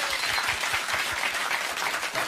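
A studio audience in a seated gallery applauds, a short burst of dense, steady clapping heard alone with no talk over it.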